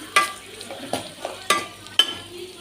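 Fried chicken pieces mixed into fried rice in a pan, a soft sizzle under several sharp, regular clanks of a spoon scraping and tossing the rice, close up with no voices.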